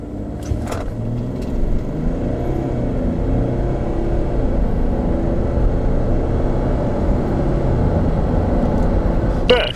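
A 2018 Kia Mohave 3.0 diesel 4WD SUV accelerates hard. A steady, deep engine and road rumble fills the cabin and holds strong for the whole pull.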